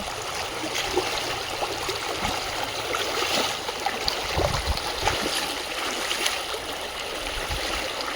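Fast-flowing stream water rushing over rocks, a steady, full outdoor roar with splashing and gurgling that carries on without a break and no speech over it.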